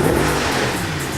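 A 2014 Audi RS5 coupe's engine revs loudly as it accelerates, a steady, full-bodied roar that holds for a little over a second with no voices.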